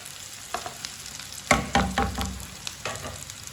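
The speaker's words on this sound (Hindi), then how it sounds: "बैंगनों को थोड़ा सा फ्राई कर लिया मैंने 2 मिनट के लिए।" Eggplant pieces fry and sizzle in a pan over medium heat, with soft stirring scrapes and crackling bursts, close and with no talk.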